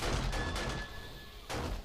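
Automated turret fire rakes a zombie in the video game 7 Days to Die, two loud, dense bursts of rapid shots with a short lull between them, with no talk.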